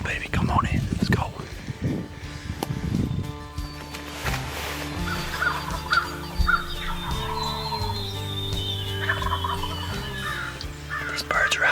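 Wild turkeys gobble in a draw during a hunt, two or three birds calling in repeated bursts at a moderate distance, with someone talking quietly and loud rustling early on.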